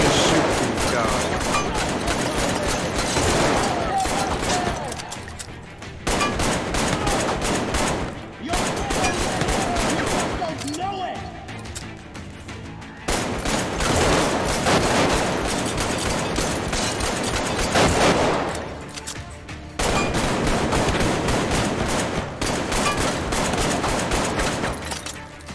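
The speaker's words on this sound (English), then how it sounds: "she wants me to shoot these guys" Sustained bursts of automatic gunfire from the virtual reality shooter Arktika.1, loud, dense volleys separated by brief pauses.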